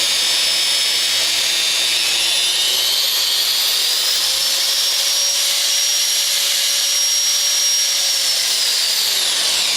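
Wen 1/2 x 18 inch mini belt sander, a power file, running at its slowest speed, a loud steady high-pitched whine and motor hum held without a break, with no talking.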